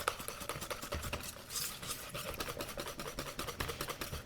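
A whisk stirs cream cheese icing thinned with vanilla and a couple of tablespoons of milk in a bowl, giving a steady, close run of rapid scraping, clinking strokes against the sides that continues without pause.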